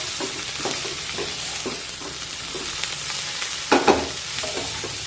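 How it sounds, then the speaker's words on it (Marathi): Leafy rice-greens vegetable being sautéed in a kadhai over a medium gas flame, a steady soft sizzle with faint scraping stirs and two louder clanks near the end, no talk. "मध्यम आचेवर ही भाजी परतून घेऊया"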